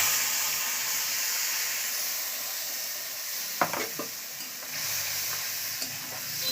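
Panch phoron and bay leaf frying in hot oil in a pan, a steady hissing sizzle with a few sharp spits and crackles near the middle, no talk.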